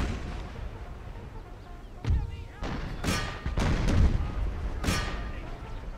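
Cannon artillery fire in an American Civil War strategy video game, several deep booming shots a second or so apart amid continuous battlefield rumble.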